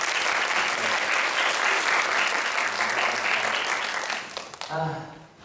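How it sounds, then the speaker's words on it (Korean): A church congregation at Sunday worship applauds their pastor, back for the first time in months after back surgery, with loud, dense applause that fades near the end as a voice begins. "4-5개월 만에 처음 나와서 박수 한번 부탁드립니다"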